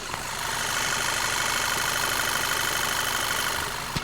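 A Volkswagen CC gasoline engine idles with the hood open, recorded close up: a smooth, even, continuous hum with faint ticking and no other sounds.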